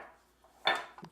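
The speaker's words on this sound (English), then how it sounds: "And we're going to put the lid on." A pressure cooker lid being set in place: a single close metallic clank and scrape followed by a couple of smaller knocks, short and moderately loud.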